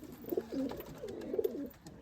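A female Andhar pigeon coos close by, giving two distinct throaty rolling calls separated by a short pause against a quiet background.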